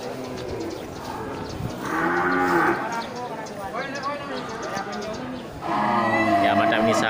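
Aceh cattle moo loudly and repeatedly at a livestock market, several overlapping calls from nearby animals over a busy background of crowd chatter.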